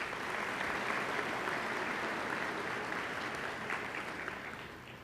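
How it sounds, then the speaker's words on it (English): At a winter college commencement ceremony, the audience applauds military service members with a full, sustained round of clapping that eases slightly near the end. "Let's give them a round of applause for their service."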